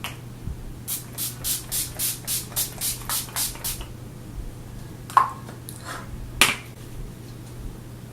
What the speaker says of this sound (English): Urban Decay All Nighter Makeup Setting Spray.